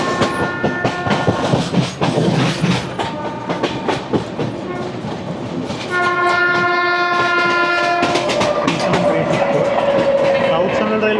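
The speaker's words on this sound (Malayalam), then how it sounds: "ഇപ്പുറത്തെ ലൈനിൽ കൂടെ ഏതോ ഒരു ട്രെയിൻ വരുന്നുണ്ടായിരുന്നു" A train passes on the adjacent line near Thane station, its loud rumble and clattering wheels building, then a long sustained horn blast sounding close over the rolling noise.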